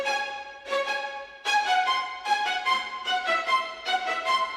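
Short, bouncing spiccato bowed string notes played high and fast in a detached, rhythmic pattern, bright and close with no voices.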